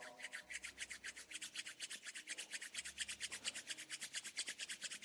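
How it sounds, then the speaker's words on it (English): Palms rubbed briskly together during a yoga session, a steady rhythmic swishing of skin on skin repeating several times per second, close and clear with no talking. "Rub your palms together."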